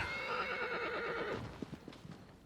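A horse whinnies in the video game Shadow of the Colossus, a loud, high, wavering neigh lasting over a second, followed by a few soft hoof clops.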